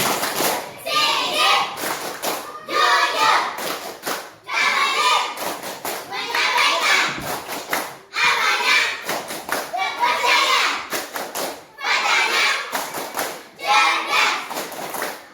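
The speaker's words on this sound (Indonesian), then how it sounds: "Tepuk sifat wajib bagi rasul." A classroom of children performs a rhythmic clapping chant on the prophet's obligatory attributes, with bursts of sharp hand claps alternating with chanted voices in a repeating pattern, loud and close throughout.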